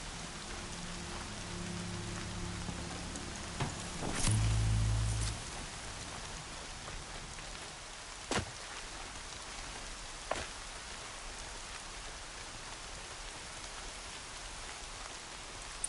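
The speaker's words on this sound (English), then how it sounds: "Raining like it's trying to wash everything away." Heavy rain pours down in Horizon Zero Dawn as a dense, continuous hiss. A short louder thud comes early on, and a few sharp isolated knocks follow later, with no voices.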